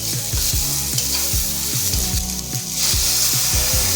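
A curry base of tomatoes and slit green chillies sizzles loudly in a pan after water is poured in, a constant frying hiss with rhythmic scraping thumps of stirring, close and alone without speech.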